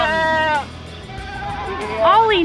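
Goats bleating on a farm: two loud, wavering bleats, one at the start and another near the end, separated by a quieter gap of background noise.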